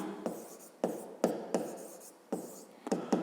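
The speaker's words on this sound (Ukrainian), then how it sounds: "Давайте записуємо тоді розв'язання." Pen strokes scratch across paper while a maths solution is written out, a run of short, close, quiet bursts at an uneven pace with brief pauses between them.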